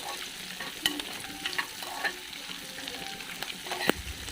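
Kasuri methi being stirred into a curry in a pan, with a soft sizzle and scattered scraping clicks of the spoon against the pan throughout, close and fairly quiet.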